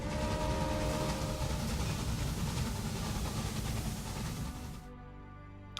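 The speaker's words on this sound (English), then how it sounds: "There goes our gun train." A train in the game Railway Empire departs on the Mexico scenario, a steady rumbling rail clatter that fades out near the end, heard alone without speech.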